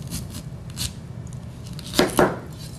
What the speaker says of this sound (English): Then you can just cut down equal parts, and then you can slice through.